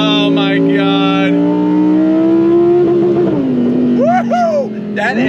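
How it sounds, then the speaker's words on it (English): A modified Audi R8 Performance engine revs hard, its pitch climbing steadily and then dropping as the throttle eases, loud and close, with brief shifts near the end. "That engine revs up very, very fast."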